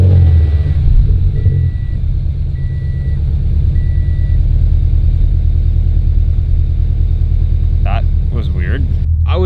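A Subaru BRZ engine running on E85 idles with a loud, steady low rumble throughout, a few faint repeating beeps early on, and a voice speaking near the end.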